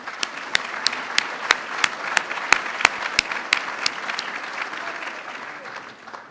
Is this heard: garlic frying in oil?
no